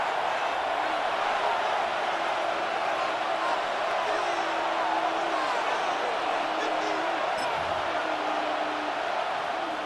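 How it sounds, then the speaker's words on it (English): A stadium crowd roars in a Cowboys football video game as third down approaches, a dense, steady wash of cheering with some whoops under a commentator's voice. "This crowd into it now as we get to third down."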